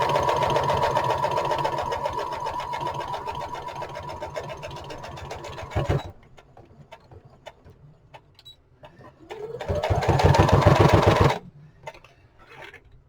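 A sewing machine stitches pockets onto a lapbook in a steady loud whir, stops abruptly, and after a quiet stretch of small clicks runs up to speed again in a second burst, then halts.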